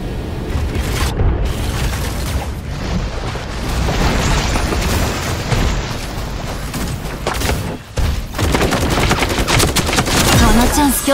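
Dense video game gunfire in a solo ranked match of the mech game Super Mecha Champions: continuous loud bursts of shots and booms over a steady battle din, with a brief dropout near the end.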